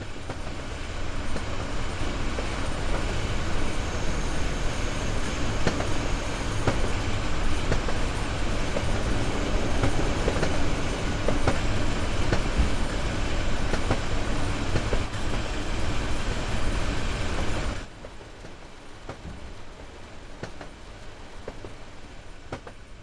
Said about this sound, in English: You're currently riding a BR422 electric multiple unit.